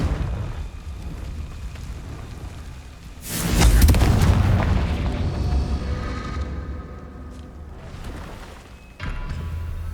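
Confringo spell explosion in the Hogwarts Legacy video game, a single heavy booming blast that erupts sharply, rumbles and slowly decays, followed by a second, smaller impact near the end.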